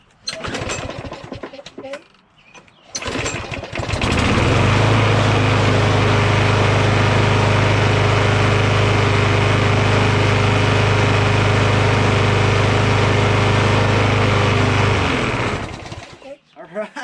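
Craftsman 21-inch push lawn mower with a Briggs Quantum engine running after winter storage, a loud steady droning engine with a low throbbing hum held for about eleven seconds before cutting off, with clattery handling noises before it starts.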